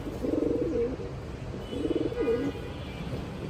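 Chila pigeons coo close by in two soft, throaty rolling phrases separated by a short pause, with no talking over them.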